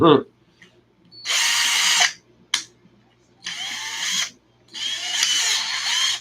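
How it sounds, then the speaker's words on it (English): A power drill whirs in several loud, close bursts as it strips the head of a stuck bolt on an ARRMA Kraton 6S RC truck's center drive, with short ratcheting pauses in between. "it's literally stripping the head of the bolt"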